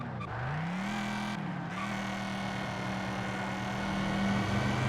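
Ford car engine in the racing game Ford Racing 2, a steady loud drone that holds one pitch, briefly dips as if shifting, then climbs a little near the end, with no talking.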